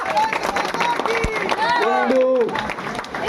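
Crowd applause and cheering at a Bengali political rally, a steady wash of clapping and murmuring that fills the clip, with a voice calling out over the noise near the middle.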